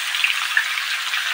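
Potatoes frying in a pan while being stirred, a steady close, soft sizzle with a couple of brief brighter crackles over a short stretch.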